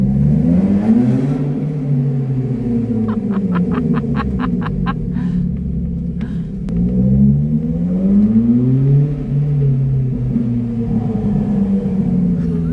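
A car engine revs inside a garage, its pitch rising and falling in repeated swells, with a quick string of sharp exhaust pops crackling in the middle; loud and close, with no talking.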